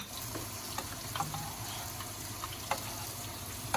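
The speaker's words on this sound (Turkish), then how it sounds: "Şimdi çorbamız kaynamaya başladı." Soup boils in a pot, a soft continuous bubbling simmer with small scattered pops and gurgles, close and fairly quiet.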